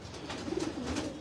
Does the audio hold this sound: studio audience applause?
no